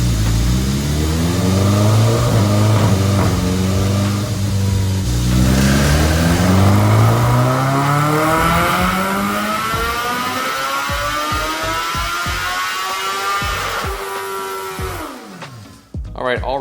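A 2022 BMW S1000R motorcycle on a dyno, engine revving hard and climbing steadily through the gears with a loud, rising whine, then cutting off sharply near the end.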